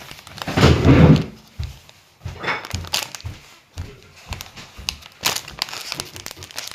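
Crinkly plastic packaging around a Labubu toy being worked open by hand, loud close crackling and crumpling in bursts, with short pauses between handling.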